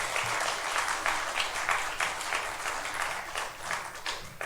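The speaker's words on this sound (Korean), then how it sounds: "박수합니다." A church congregation applauds steadily, a dense wash of many hands clapping at a fairly even level throughout, with no speech over it.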